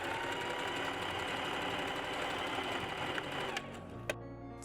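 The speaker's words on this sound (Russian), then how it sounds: "складываю манжеты вот таким образом, лицом к лицу, и прошиваю." A sewing machine stitching the cuffs of a shirt sewn from a vintage tablecloth, a loud, fast, steady mechanical whir that stops abruptly near the end with a small click.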